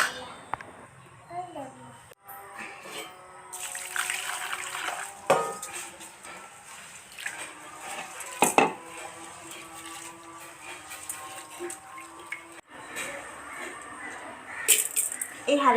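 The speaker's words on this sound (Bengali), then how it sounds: "আর এখানে ডালটা ধুয়ে তারপরে হাঁড়িতে বসিয়ে দেব" Lentils (dal) being rinsed in water and tipped into a cooking pot, with clinks of metal pot and utensils, splashing and scattered knocks at close range, while someone talks over the kitchen sounds.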